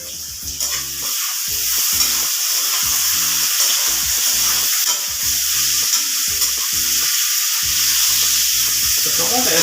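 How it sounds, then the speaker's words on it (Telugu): Vegetables fry in a pan for Karnataka-style kara bath, with a steady loud sizzle under repeated stirring scrapes and clinks. "సో ఇవన్నీ కలిసి ఒకసారి బాగా ఫ్రై చేసుకోండి."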